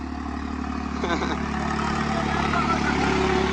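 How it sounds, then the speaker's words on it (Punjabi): A 3630 tractor runs steadily while ploughing a field, its engine a continuous close drone with a faint mechanical clatter, and no break in the sound. "ਟਰੈਕਟਰ ਚੱਲਦਾ ਪੂਰੇ ਗੁਣੀਆਂ 'ਚ"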